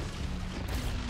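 A video game grenade goes off in a single short, dull boom with a rumbling low tail, heard close and fairly loud.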